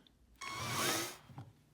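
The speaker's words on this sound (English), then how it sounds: "So start with drilling the hole," Small hole drilled with a 1/8 inch drill bit, likely into a box for a vintage Skilsaw 825: a single short burst of whirring and grinding that lasts under a second, close and fairly quiet.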